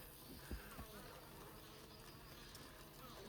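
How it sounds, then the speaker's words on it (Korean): Wild mountain bees swarming around a hive in the hills give a steady, faint insect buzz with a couple of soft knocks near the start, and no voices are heard. "산벌이라 저 밑에 있는 벌들보다 사나워요."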